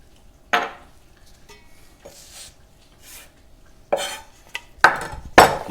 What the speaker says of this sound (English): Give that a mix, get that all mixed in together.